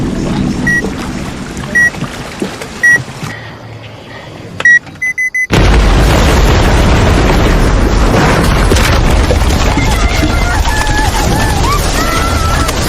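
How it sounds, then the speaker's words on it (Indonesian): In a film scene, explosives blast apart a pile of wood beside a boat in the jungle: after a tense, beeping stretch and a brief silence, a sudden loud boom erupts into a sustained roaring rumble with a dramatic score over it. "ledakan tersebut pun mengakibatkan ratusan ular terlempar masuk ke atas kapal, di mana Barnett dan kawan-kawan pun dibuat"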